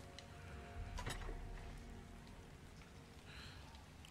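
Steady rain falls, a faint continuous hiss broken by a few soft thuds, heard alone without any voices.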